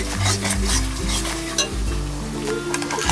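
Spice masala and onions sizzle steadily in a pan while a spoon stirs them, giving a dense close frying hiss broken by scraping strokes and light clinks against the metal.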